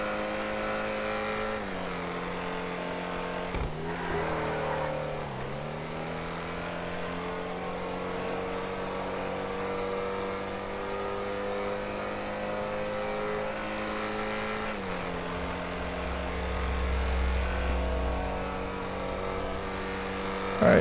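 Ocelot XA-21 sports car in GTA with its engine revving and climbing in pitch as it accelerates toward top speed, dipping briefly on shifts or lifts before rising again; steady and close, with no talking.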